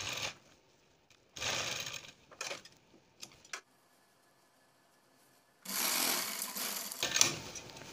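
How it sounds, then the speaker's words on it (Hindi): A sewing machine stitches fabric folded over buckram for a lotus-design blouse back neck. Short whirring runs of stitching alternate with quiet pauses and faint handling clicks, ending in a longer steady run. "कट करने के बाद में हम कपड़े को इस तरह से बुकरम के ऊपर फोल्ड करके सिलाई लगा देंगे।"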